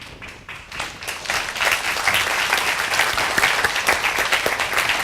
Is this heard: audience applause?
yes